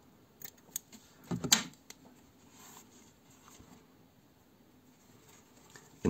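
Scissors cut crochet yarn, a single crisp snip near the middle, with a few faint clicks and light handling noises around it in an otherwise quiet room.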